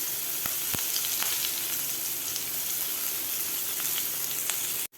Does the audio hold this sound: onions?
yes